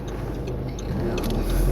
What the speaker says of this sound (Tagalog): Busy talaga ang kalsada ngayon itong oras na to.